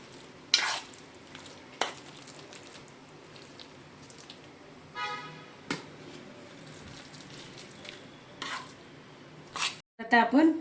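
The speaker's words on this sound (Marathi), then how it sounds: "तर आपण 1 चमचा भरून तेल घेऊया आणि ह्या पिठामध्ये आपण घालूया आणि मिक्स करूया" A spoon stirs oil into onion bhaji batter in a bowl: soft, sparse wet scraping and clinks with quiet gaps, and a sharper clatter near the end.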